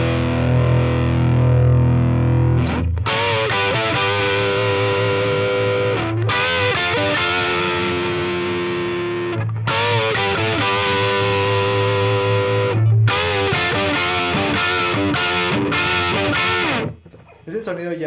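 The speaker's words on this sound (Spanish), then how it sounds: "Ese sonido ya es bastante más distorsionado." An electric guitar plays through a Boss Katana 100 amp set to maximum gain, heavily distorted chords ringing loud and saturated in several sustained bursts with brief gaps, ending in a sudden cutoff.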